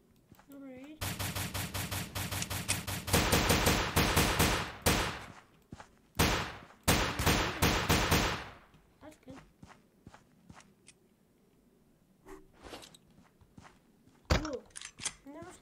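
Gunfire from a gun in the browser shooter Combat Reloaded: rapid bursts of loud, evenly spaced shots in two stretches, the first longer, then quieter movement noise and a final single shot, with a voice talking briefly.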